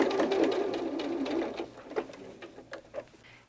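A sewing machine stitches a fabric hedgehog softie in a fast, close whirring run that slows into a few short separate bursts, with no talking.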